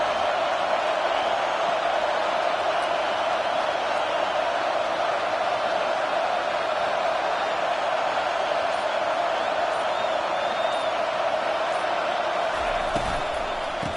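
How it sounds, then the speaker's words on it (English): Stadium crowd noise from an NCAA college football video game, Boise State at Notre Dame on a third down, a steady loud roar and cheer held throughout with no pauses. "Decibels rising as the crowd gets behind this defense on 3rd down."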